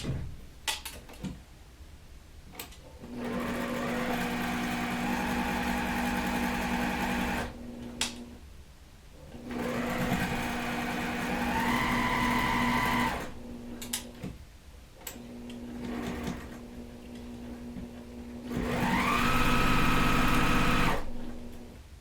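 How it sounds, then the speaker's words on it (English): A home sewing machine stitches quilt block fabric in three long runs of steady, close whirring, each lasting several seconds. Brief pauses separate the runs, and no one talks. "Sew right exactly where that pin is, and let's see what happens."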